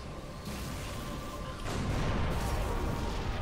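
A fuel rod cannon shot in Halo 3 hits as a sudden heavy blast that lifts the loudness partway through, leaving a thick rumbling wash behind it.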